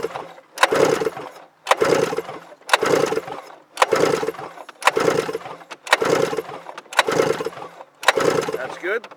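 A 1997 Yamaha Vmax SX 700 triple two-stroke engine cranks repeatedly during a compression test on the center cylinder, giving eight evenly spaced, loud bursts of starter churning with brief gaps between them.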